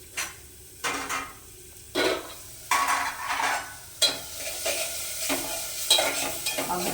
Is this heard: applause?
no